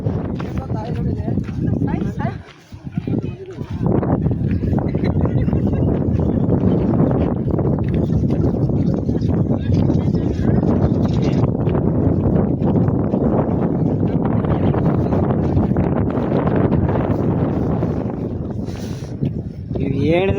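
A strong, constant wind roar buffets the microphone throughout, with a brief lull near the start, on the foggy Kappatagudda hills in North Karnataka.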